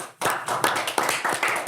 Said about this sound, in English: I'm clapping for you guys.